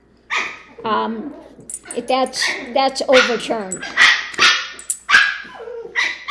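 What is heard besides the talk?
puppies barking and growling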